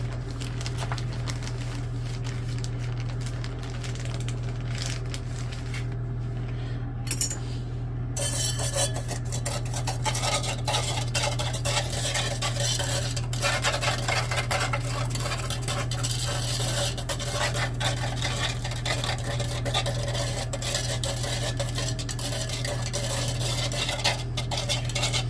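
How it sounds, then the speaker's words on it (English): A gold recovery chemical solution is stirred in a container, with faint scraping and light clinks over a steady low hum, close and quiet throughout. "I'll give that a stir quick."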